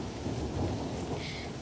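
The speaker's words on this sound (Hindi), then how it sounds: "रोड पर बारिश का पानी बाढ़ की तरह बढ़ रहा था।" Heavy rain pours steadily with rumbling thunder during a storm as rainwater floods a road, a dense, continuous roar with no voices.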